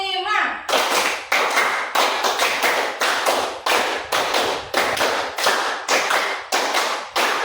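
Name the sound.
class clapping a counted rhythm, four times five claps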